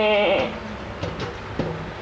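A single sheep lets out a loud, wavering bleat up close, followed by faint shuffling and thumps.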